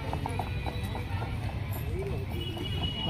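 Horses at the Akluj horse market, with rapid hoof clip-clops in a close rhythmic series over steady crowd murmur and nearby talk.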